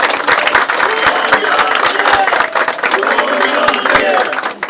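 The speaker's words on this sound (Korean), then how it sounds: "박수 한번 쳐주세요." Loud, dense applause from a crowd at a political rally for a party leadership candidacy announcement, sustained clapping with a few cheers mixed in, close and continuous throughout.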